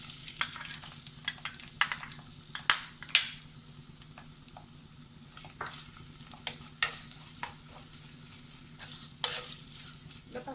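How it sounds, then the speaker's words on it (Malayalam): Chopped ingredients for a Kanambu fish curry with coconut milk sizzle in hot oil as a spoon stirs them in a pan, with soft frying hiss and scattered scraping clinks. "എണ്ണ ചൂടായി തുടങ്ങിയിട്ടുണ്ട്. ഇതിലേക്ക് അരിഞ്ഞു വെച്ച എല്ലാം ചേർത്ത് കൊടുക്കാം."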